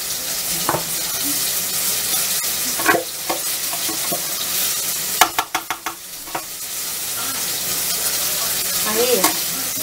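Sauce sizzles loudly in a pan around a breaded steak for bife a parmegiana, a steady close frying hiss with a quick run of metallic clinks midway.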